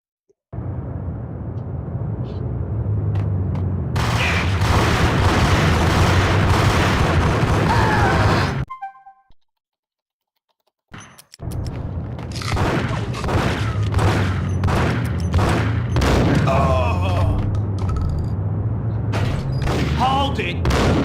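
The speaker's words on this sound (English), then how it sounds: "Who threw that stupid grenade?" Grenade blasts and bursts of gunfire in the 2001 shooter game Max Payne, loud booms and rapid shots filling the scene, cutting out briefly to near silence before heavy firing resumes.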